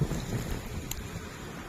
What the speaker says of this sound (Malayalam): നല്ലപോലെ കാറ്റും വീശുന്നുണ്ട്